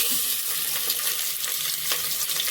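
Chicken pieces frying in hot oil for a chicken kuzhambu, a steady bright crackling sizzle that carries on without a break.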